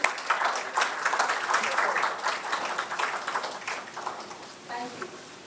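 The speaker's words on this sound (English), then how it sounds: "Huge round of applause, everyone." An audience at a conference awards event claps in sustained applause, a dense crackle of many hands that fades toward the end while a voice speaks briefly.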